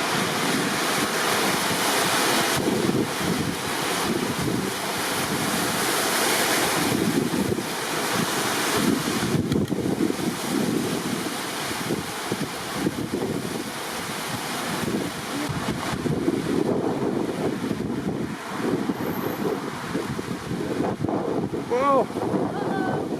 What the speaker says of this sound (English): you can probably hear debris and sand and other stuff hitting the car too because the winds are pretty fierce